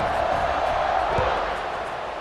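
A big stadium crowd in the College Football 26 video game keeps up a steady, loud, dense roar throughout, with a single low thump partway through.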